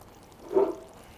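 Coconut curry sauce poured into a pan, a single brief, soft liquid glug that swells and fades within about a second, close by and alone.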